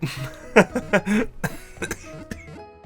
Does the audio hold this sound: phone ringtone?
no